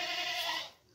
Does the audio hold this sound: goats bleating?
yes